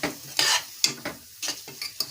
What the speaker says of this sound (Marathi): हे असं मिक्स करून घ्यायचं